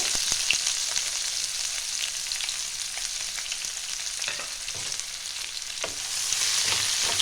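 Chopped onion frying in hot oil with cinnamon and cloves, a dense continuous crackling sizzle with faint stirring ticks, close and steady throughout.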